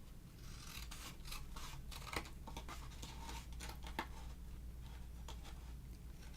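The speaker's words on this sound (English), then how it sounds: "let me just get this and cut this little piece away" Scissors snip a small piece of paper away in a quiet room, a few soft, close cuts and rustles against a faint background hum.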